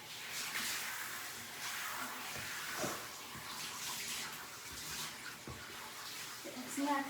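Water runs and splashes steadily in a bathtub while a yellow Labrador is rinsed, with a continuous hiss of spray broken by occasional splashes and a few soft knocks.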